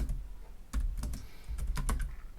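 Quick bursts of keystrokes on a computer keyboard typing a code comment, close and clear, in uneven clusters with short pauses between them and no talking.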